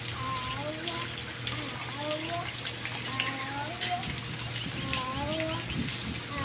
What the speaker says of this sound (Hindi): अब बहुत ही पानी गिर रहे हैं दोस्तों